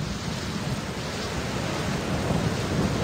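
A cartoon thunderstorm roars as a steady, dense wash of rain and rumbling thunder, loud and constant with no voices over it.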